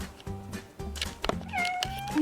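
A house cat named Sansa meows several times up close, short rising and falling cries that end in a higher drawn-out call, with faint low background noise.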